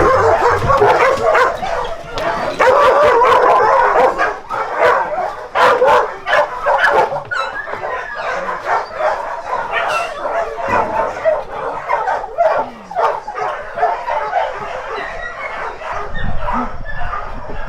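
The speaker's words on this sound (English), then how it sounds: "There's dogs everywhere in there." Many dogs bark and yip repeatedly, close and loud, a chaotic chorus of overlapping barks with occasional whimpers and brief talking.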